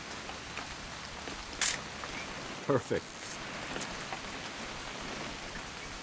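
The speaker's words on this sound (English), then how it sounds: "It's gonna rain the whole weekend, isn't it?" Steady rain falls throughout a scene in the video game What Remains of Edith Finch, a dense even hiss with a few brief louder spatters, and a voice speaks a single word.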